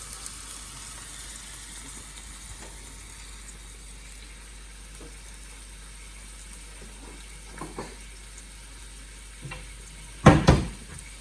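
Beef browns in a pot with a soft, steady sizzle, punctuated by scattered stirring scrapes and a louder clatter near the end.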